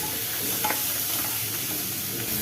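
Steady sizzling of onions sautéing in a pan, with occasional scraping and stirring sounds, close and continuous.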